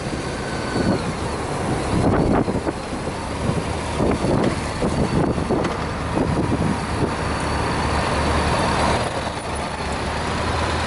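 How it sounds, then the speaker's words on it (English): Honda engine running while driving, a steady mid-level motor drone with road noise, slight rises in revs and a few bumps and rattles, heard from inside the vehicle with no talking. "I like that Honda sound."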